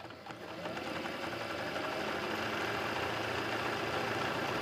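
A sewing machine runs continuously for machine embroidery, a steady close mechanical whir with a rapid needle rhythm and no pauses, alone without talk.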